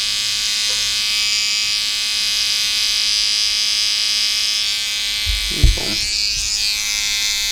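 Electric hair trimmers buzz steadily at close range during detail work on a drop fade haircut, a constant high whine with a brief thump near the end and a short spoken word.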